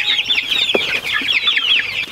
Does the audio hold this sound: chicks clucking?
yes